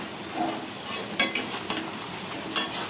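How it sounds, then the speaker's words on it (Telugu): Masala gravy being stirred in a cooking pot, soft scraping strokes and a few light clinks of a spoon against metal over a faint bubbling simmer, close and quiet. "ఒకసారి కలిపేసేసుకుందాం ఇది."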